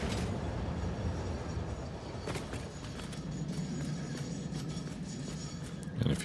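A train in the Satisfactory video game passes with a steady rumbling, rattling roar that swells slightly at the end.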